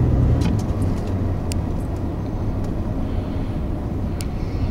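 A 2011 Ford F-150 EcoBoost 3.5L pickup towing a trailer on an interstate gives a loud, steady road roar and rumble of tires and engine, continuous with no talk.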